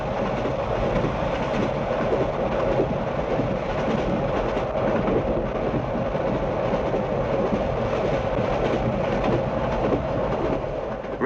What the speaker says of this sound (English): We're having a wonderful time today because we're being pulled by the Flying Scotsman.